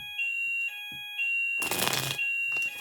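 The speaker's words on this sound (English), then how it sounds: "Sorry, that's the alarm testing." A fire alarm under test beeps in a repeated on-off pattern of steady electronic tones, interrupted midway by a burst of shuffling or rustling noise, fairly loud and close indoors.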